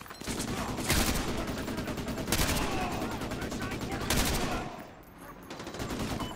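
Sustained automatic gunfire from the video game Call of Duty Modern Warfare 2, dense rapid bursts with louder peaks every couple of seconds, close and continuous throughout.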